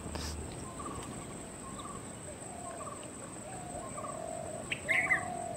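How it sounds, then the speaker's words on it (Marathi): Birds call from garden trees, with a magpie robin and a bulbul singing in repeated short whistled phrases over a steady insect drone, and a brighter, louder call near the end. "दयाळ गाणी म्हणताना झाडाच्या शेंड्यावर बुलबुलही त्याला स्पर्धा करतो"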